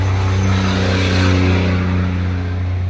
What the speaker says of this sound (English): I'm sure all you guys can hear is just freaking cars going by this whole entire live stream